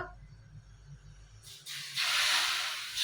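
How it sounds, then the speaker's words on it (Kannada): Hot oil poured gradually into a Mysore pak mixture in the pan, a quiet start that bursts into a loud, hissing bubbling sizzle in the second half. "ಸುಡು ಸುಡು ಎಣ್ಣೆ ಇದು ಬಬಲ್ಸ್ ಬರುತ್ತೆ"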